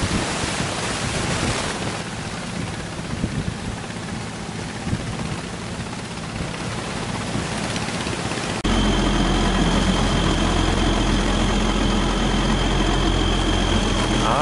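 A fishing boat engine drones steadily with wind and rushing water, growing louder and rougher partway through as it labors against the current.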